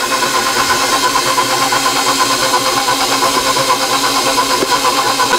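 An electric mixer beats molasses cookie dough with a loud, dense, steady whirring buzz that holds evenly throughout, with no talk over it.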